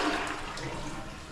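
A water closet toilet in a house bathroom flushes with a steady, close rushing wash of water that holds evenly loud through the short moment, with no talking over it.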